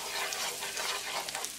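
Spices, green chili, red chili flakes, salt, cumin and black pepper sizzle in garlic butter in a frying pan while being stirred, giving a close, steady hiss with soft scraping and no talking.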